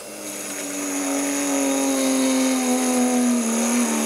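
Small motor of an overpowered mini drill press running at 3 amps and 12 volts, a steady high whine that rises slightly and holds as it drills, close and continuous.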